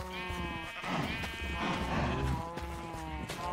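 Sheep bleating in the video game Minecraft, several overlapping calls repeating steadily over a farm-animal soundscape, fairly loud and close with no talk.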